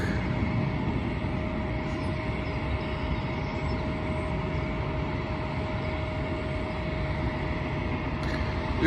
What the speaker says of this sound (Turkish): Evet şimdi JetBlue'nun 190'ı kalkacak.